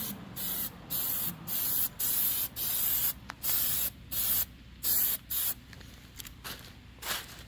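Aerosol spray paint applied in a light first coat to grills: a series of short, close hissing bursts about half a second each, separated by brief pauses, growing shorter and more irregular toward the end.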